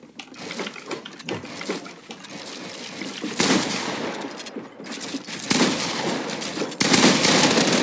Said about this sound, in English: She shot me through the ramp.